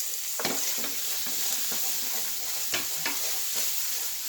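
Onions fry over medium heat in a pan, browning while still translucent. A constant close sizzle is broken by repeated scraping strokes of stirring.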